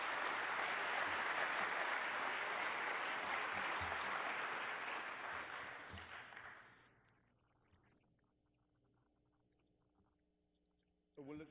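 Audience applause in a Seattle lecture hall after a talk on religion, a dense sustained clatter of many hands for about six seconds before fading into near silence, with a brief sound at the very end.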